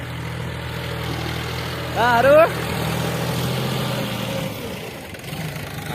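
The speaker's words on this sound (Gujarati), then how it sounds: "ટ્રેક્ટર ચાલુ છે." A farm tractor engine idles out in an open field, a steady low rumble running under the whole stretch, while someone speaks briefly over it partway through.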